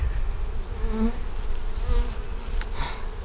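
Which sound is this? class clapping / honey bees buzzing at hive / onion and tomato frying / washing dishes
honey bees buzzing at hive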